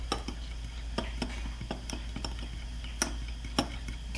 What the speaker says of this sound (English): So now I'm going to stir in the seasoning and the butter together.